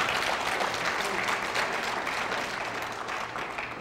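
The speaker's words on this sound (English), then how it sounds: "yes, you can clap for that" A lecture audience breaks into dense, steady applause that stays loud throughout, easing off slightly toward the end.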